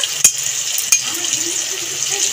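Pumpkin and potato fry in a pan with slit green chilies for a Bengali vegetarian curry, giving a steady, fairly loud sizzling hiss broken by a couple of sharp clanks from a utensil against the pan.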